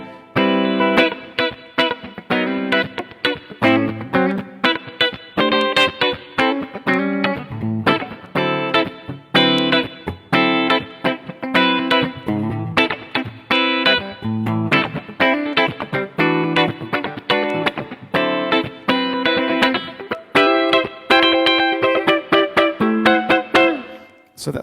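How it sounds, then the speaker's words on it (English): A 1969 Gold Top Gibson Les Paul Deluxe electric guitar on a clean, bright amp setting plays a steady run of strummed chords and picked notes, close and loud throughout with no talking. "I'll put it on a clean sound so you can hear that in comparison to a normal Les Paul, it's actually pretty bright"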